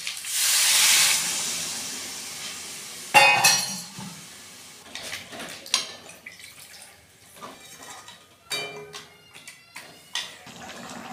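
Water poured into a hot pan of potatoes and fish heads gives a loud burst of steaming hiss, followed by clinks, drips and light stirring knocks.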